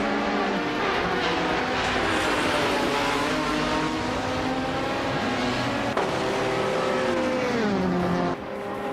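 A 2017 Nissan DPI race car engine roars in a racing video game, a loud, steady high-revving drone with continuous harmonic whine and a brief pitch drop near the end as it shifts or lifts off.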